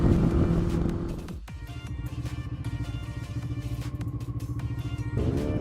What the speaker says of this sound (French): Je suis entouré à 360 degrés des sons de moteurs de moto